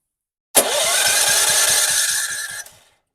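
A DuraMax XP4400EH generator engine fires up and runs loud and close for about two seconds with a rapid low putter, its choke being adjusted, then cuts off abruptly.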